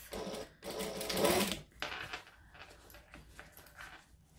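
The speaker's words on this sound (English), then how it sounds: "I'm just going to stitch the seam allowance." A sewing machine stitches a seam allowance at 2.5 stitch length, running in a loud whirring burst, then pausing and continuing in shorter, softer runs of rapid needle clatter nearby.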